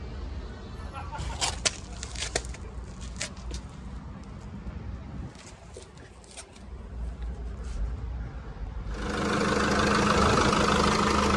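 A used Volkswagen Touareg R-line or Renault Master engine idles steadily as a low, even hum with some scattered clicks, growing louder and more hissy near the end.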